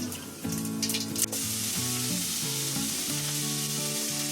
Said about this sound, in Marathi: बटाटे आपल्याला आहे ना चांगली फ्राय करायची आहे.